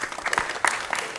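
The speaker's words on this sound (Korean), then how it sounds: "박수합니다." Warm applause from a church congregation during a Sunday service announcement, steady clapping from a crowd in a large room, with no talking over it.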